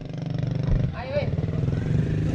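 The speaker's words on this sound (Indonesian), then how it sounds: "Awas motor." A motorcycle passing on a mountain road near the Gunung Banyak paragliding site in Malang, heard as a steady close engine rumble under loud talking and wind throughout the short moment.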